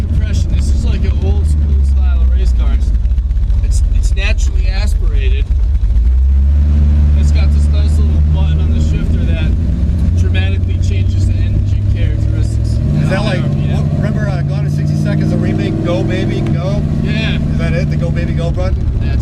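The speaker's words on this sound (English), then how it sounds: "this is the loudest fucking car ever. Yeah, it's pretty high compression." A loud, throaty 1969 Plymouth Road Runner with a naturally aspirated, high-compression engine rumbles and revs, deep and continuous, with people talking over it nearby.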